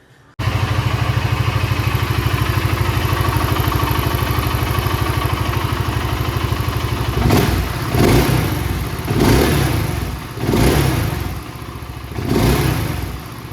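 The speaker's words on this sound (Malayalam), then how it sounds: "എഞ്ചിൻ്റെ അവിടുത്തെ ശബ്ദം നോക്കുമ്പോൾ ഒരു ടാപ്പറ്റ് അടിക്കുന്ന പോലത്തെ, അല്ലെങ്കിൽ ഒരു അൺവാണ്ടഡ് ആയിട്ടുള്ള ഒരു ശബ്ദവും എനിക്ക് ഫീൽ ചെയ്തു" A BSA Goldstar 650 motorcycle engine runs at a steady loud idle, then revs in five or six rhythmic bursts, with a tappet-like mechanical ticking under the engine note.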